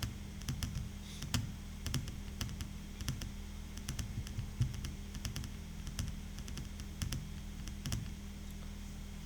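Steady typing on a computer keyboard while entering text into an Excel spreadsheet, with a continuous stream of close, crisp key clicks and a faint background hum.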